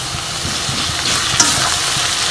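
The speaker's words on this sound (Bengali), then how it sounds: "তেলে ভেজে নেব, যাতে রসুনের কাঁচা গন্ধটা না আসে" Two spoons of garlic paste sizzle steadily in hot oil over reddish-fried onions for a chicken dish, a dense continuous frying hiss with a brief stirring scrape partway through.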